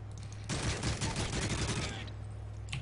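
A burst of gunfire in the video game Modern Warfare 3, a dense rattling volley of shots lasting over a second before cutting off, loud against a low hum, with a brief faint pop near the end.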